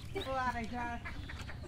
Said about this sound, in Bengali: এই এত সুন্দর সুন্দর হাঁস